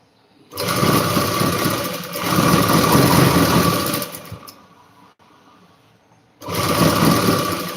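A sewing machine stitches in three loud, sustained runs separated by short pauses, its fast mechanical whir close and clear with no voices.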